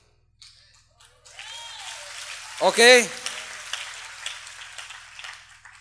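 Church audience applauding during a sermon by a pastor, scattered clapping that builds into a burst and then fades, with a voice speaking over it.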